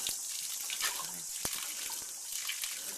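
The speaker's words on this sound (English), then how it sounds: "and out comes the water." Water gushes steadily from a hand-operated bore pump just after a washer repair, a continuous close splashing flow with no talk over it.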